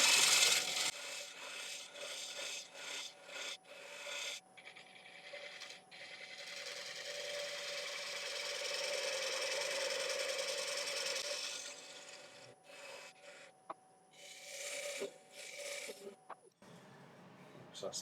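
Wood lathe spinning at 550 rpm while a tool gently nibbles away bowl wood, producing a steady raspy scraping over a faint hum, with brief knocks and pauses near the end.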